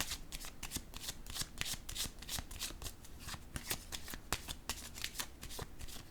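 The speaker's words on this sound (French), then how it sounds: "Je vais déposer une carte ici sur le guide." Tarot cards are shuffled and laid down in quick, crisp riffling bursts with sharp slaps and flicks, close and fairly quiet, repeating irregularly with no talking.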